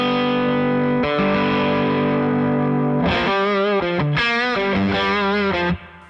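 An electric guitar runs through an overdrive/boost pedal with its bass boost on: a sustained distorted chord, then a loud wavering bent-note riff that cuts off abruptly at the end, with no speech.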